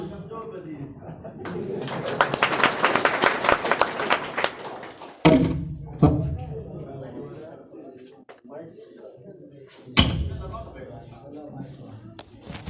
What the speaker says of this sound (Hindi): हुजूर एक बार ताली बजाइए।